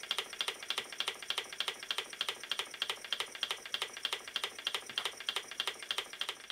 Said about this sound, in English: If you wonder why these pumps are knocking a little bit, it's because they're not pushing against anything.